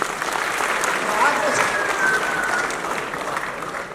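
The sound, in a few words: audience applause at political event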